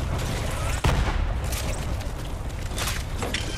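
Grenade explosions and rapid gunfire in Borderlands 3 during an attack on a cathedral, a continuous loud barrage of blasts and shots with a heavy thump near the start and bursts that keep rolling through.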